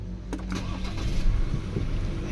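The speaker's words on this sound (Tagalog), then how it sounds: "Engine start." A 2022 Ford Everest SUV's engine cranks and starts with a short whirring catch, then settles into a steady low idle rumble close by, with no talk over it.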